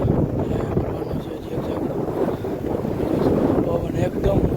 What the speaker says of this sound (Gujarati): પવન એકદમ મસ્તીનો વાય છે.